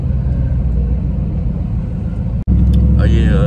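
Deep, rumbling V8 drone from a Jeep WK1 SRT with a 6.1 Hemi and ported throttle body, cruising loud and close with a brief cut, then continuing as people talk over it.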